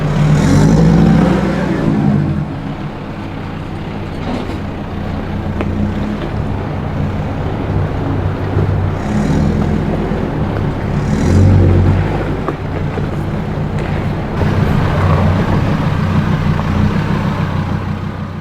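A twin-locked Ford Ranger 4WD rumbles steadily along a short, rocky track down to McBrides Beach, its low engine drone continuous and close with slight swells in load over the rough ground.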